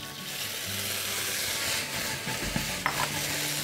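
Hofa noodles sizzle steadily in a very hot, smoking wok on an induction stove, a close, dense frying hiss broken by scraping and clanking as the noodles are stirred and tossed.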